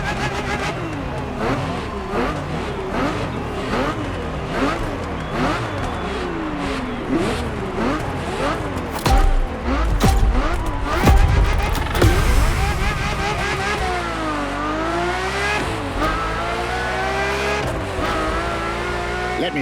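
A Ferrari F50 in The Crew Motorfest revs hard through repeated gear changes, its engine pitch climbing and dropping in quick sweeps, with a louder surge and tire noise midway, while a voice talks over it.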